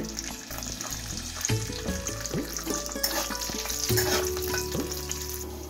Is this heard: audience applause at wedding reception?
no